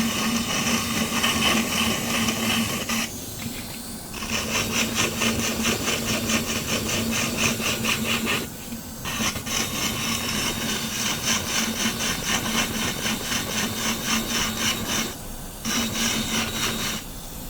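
An electric grinder fitted with a replaceable sandpaper disc sands steadily with a rough, whirring scrape, broken by three brief pauses as the disc lifts off the surface.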